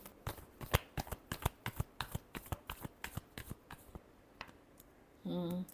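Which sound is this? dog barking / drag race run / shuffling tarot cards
shuffling tarot cards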